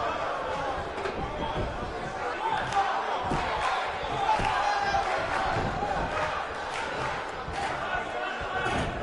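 A sold-out arena crowd in the WWE 2K19 wrestling game roars and chants in a sustained, dense wash of voices, rising and falling slightly, with scattered thumps and shouts mixed in.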